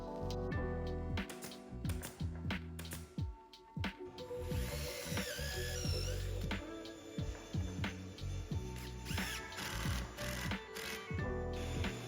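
Power drill driving screws into a glued, pin-nailed wooden table base, heard as loud repeated bursts of whirring and ratcheting with knocks and clatter between them, close and continuous throughout with no talking.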